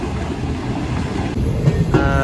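Shalimar Express passenger train running loud and close on the tracks on the approach to Khanewal Junction, a steady rumble with rhythmic clatter of wheels, no talk over it.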